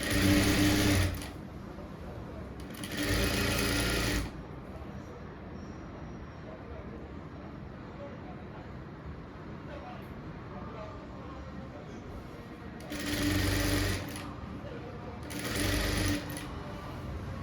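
A sewing machine stitching a blouse runs in short bursts, loud and close, with pauses between; someone talks quietly during the gaps.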